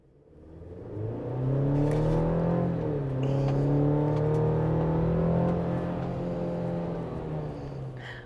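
A Chevy Colorado ZR2 Bison pickup truck engine revs up and accelerates, its droning pitch rising and holding loud for several seconds before easing slightly.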